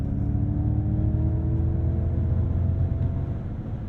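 A Ford Mustang Mach-E GT electric SUV is driven hard through a corner, with a steady, close electric motor whine and road rumble that holds level before easing slightly near the end.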